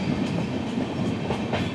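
The 12978 Marusagar Express rumbles into Kankavali station with a steady low roar and repeated clickety-clack of wheels over rail joints, loud and close throughout, no voices.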